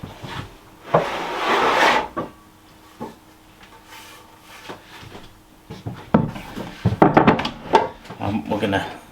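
Wooden chopping board handled in a home kitchen while making air-fryer Cream Egg croissants: a burst of rubbing and scraping wood, then a few light knocks, and a louder cluster of clattering wooden contact near the end, close by with talk.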